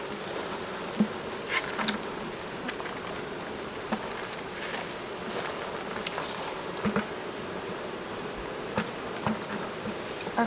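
Honeybees buzz continuously inside a hive during a honey harvest, a dense, steady droning hum with no talking.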